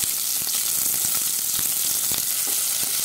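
Onions sautéing in a pan with bay leaf and cinnamon for a paneer matar pulao, giving a steady, close sizzle and crackle throughout, with occasional stirring clicks and no talking.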